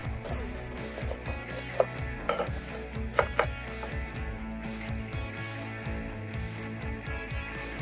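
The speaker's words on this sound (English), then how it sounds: "cut the other half of the onion into smaller cuts and fry them up" An onion cut into smaller pieces on a board, a run of close knife taps at an uneven pace, with a steady tonal hum underneath and a few sharper knocks.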